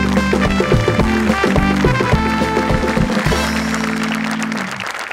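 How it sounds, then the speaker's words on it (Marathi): Loud applause from a studio audience at a Marathi comedy show honoring the art team, sustained clapping under a rhythmic band with drums and horns, full and close, gradually fading toward the end. "मला वाटतं एकदा आपल्या आर्ट टीमसाठी जोरदार टाळ्या झाल्याच पाहिजे"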